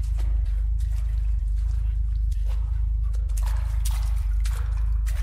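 Water drips and trickles in a cellar in the horror video game Deppart Prototype, a scattering of soft irregular drips over a constant deep rumbling drone.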